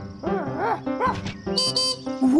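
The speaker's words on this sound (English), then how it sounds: "It's a puppy dog." A cartoon puppy dog barks in a rapid run of short, high, yelping woofs and whiny yips, loud and close, with no talking.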